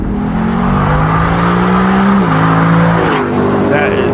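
A car engine runs loud and close, holding a steady drone and then shifting pitch as it revs, with voices talking faintly underneath.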